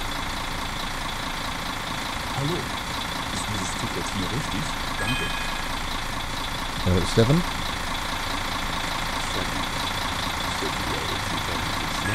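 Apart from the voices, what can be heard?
coach engine idling, from the video game Tourist Bus Simulator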